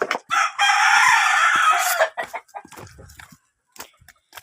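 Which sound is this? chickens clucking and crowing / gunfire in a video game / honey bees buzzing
chickens clucking and crowing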